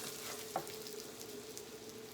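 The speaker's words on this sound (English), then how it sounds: "Get that sizzle, sizzle." Quiet, steady sizzling of hoe cakes frying in hot grease, with a brief clink partway through.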